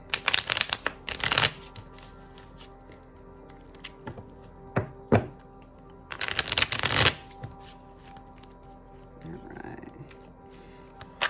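Tarot cards are shuffled in two bursts of riffling, a short one near the start and a longer one midway, with quieter card handling and small knocks between and faint room noise throughout.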